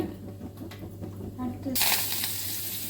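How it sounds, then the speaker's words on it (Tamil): Mustard seeds and urad dal are tempered in hot oil for tamarind rasam, starting with faint kitchen clatter, then a sudden loud, crackling sizzle that carries on steadily, close at hand. "இப்போ ரசம் தாளிச்சுக்கலாங்க ரசம் கலந்துட்டோம் புளி ரசம் தான் தாளிச்சுக்குவோம்"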